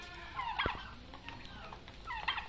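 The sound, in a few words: turkeys gobbling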